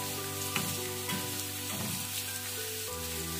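Tuna pieces fry in a pan of oil over a medium flame for fish pickle, giving a steady, dense sizzle throughout with soft tonal music underneath.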